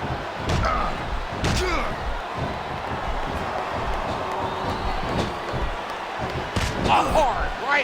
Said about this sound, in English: A hard right hand, knocking his opponent down.